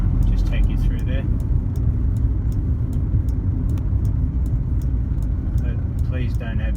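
A car driving on a road toward a small town centre, with a steady low engine and road rumble close by throughout and faint ticking and clicks over it.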